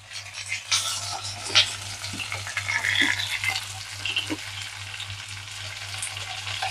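Curry leaves crackling as they fry in hot oil, a close, continuous sizzle with sharp pops and occasional stirring scrapes, no speech.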